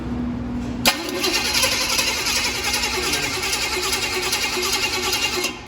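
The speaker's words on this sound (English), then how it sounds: "I should be able to crank it over and not have any issues." A car engine cranks over on the starter during a compression test, kept from starting, a steady loud rhythmic churning that begins abruptly after a click and runs unbroken for several seconds before cutting off.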